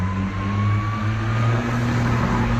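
A car engine accelerating in a replayed clip, a steady loud motor hum with a rising tone that holds through the full stretch with no talking.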